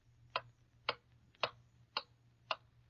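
A clock ticks five times at an even, slightly slow pace, the crisp ticks standing alone over a faint low hum, as heard in a 1939 radio advertisement.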